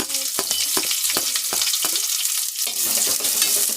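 Sliced onions frying with dried red chillies and garlic in a hot pan for a homestyle unta charu, a loud dense sizzle with repeated scraping stirs of a spatula throughout.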